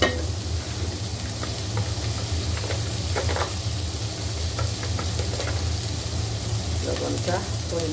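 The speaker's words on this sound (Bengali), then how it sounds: "হলুদ গুঁড়ো দিয়ে দিলাম। এটা একটু কষিয়ে রান্না করবো।" Ground spices and turmeric for a Sylheti-style big-fish curry sizzle and fry steadily in a pan, a continuous loud crackling hiss with occasional stirring scrapes, and a voice talking faintly in the background.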